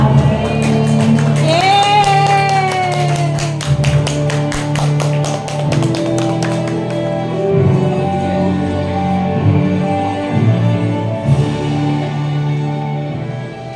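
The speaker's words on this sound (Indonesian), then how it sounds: "Kepadanya kami silahkan beri tepuk tangan yang meriah" Fast, rhythmic clapping from an audience welcoming a talk show host at a school event. It is dense and steady for several seconds, then thins out under crowd noise and faint tones.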